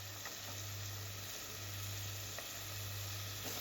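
Squid roast with tomato and chili frying in a pan, Kerala style, giving a faint, steady sizzle with a low hum beneath and occasional light stirring taps.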